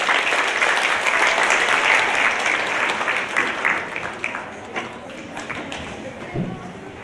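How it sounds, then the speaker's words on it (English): Middle school audience in a school assembly applauding a guest speaker, a loud, dense burst of many hands that gradually thins and fades toward the end, with no talk over it. "So give a big round of applause for Sam McCullough."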